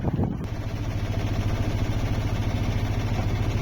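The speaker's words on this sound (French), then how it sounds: "J'ai mis le moteur parce qu'il n'y a pas beaucoup de vent." A sailboat's engine runs continuously at sea in light wind, a steady droning motor with a low, even hum and no pauses, close by and moderately loud.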